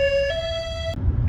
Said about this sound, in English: Finished the high-low sirens.